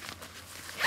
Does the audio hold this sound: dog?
no